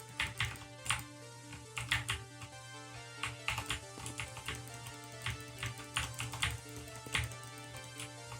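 Rapid, steady clicking from a computer mouse or keyboard during fast-paced 3D action gameplay, close and continuous over a backdrop of game music with sustained tones.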